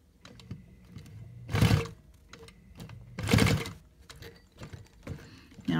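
Sewing machine stitching along the edge of a fabric piece, heard in two loud bursts of rapid whirring separated by quieter pauses and light handling noise.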